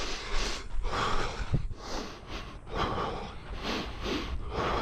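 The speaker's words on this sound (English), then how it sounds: "Sometimes those grunts, they just help me bear through." A runner on a four-mile long run breathes hard, with heavy gasping inhales and exhales and snorting grunts in an uneven rhythm, close and fairly loud, with no speech over it.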